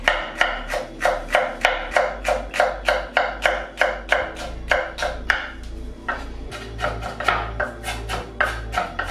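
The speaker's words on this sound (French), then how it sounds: "je vais couper un petit peu de piment" A knife chops chili pepper on a board in quick, crisp, evenly spaced strokes, with a short pause midway before the cutting resumes.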